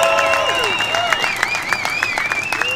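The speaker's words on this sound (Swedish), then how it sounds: "Ja, ni applåderar, jag hör det." A crowd at the Novemberkåsan event in Bollnäs applauds hometown competitor Martin Larsson with loud, rhythmic clapping in a steady beat, while sustained tonal sounds carry over it.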